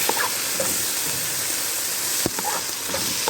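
Rice and vermicelli frying together in a pan, with a steady loud sizzle and hiss and occasional scraping clinks as a utensil stirs the mixture.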